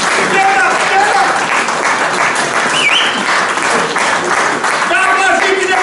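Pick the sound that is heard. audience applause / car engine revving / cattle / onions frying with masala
audience applause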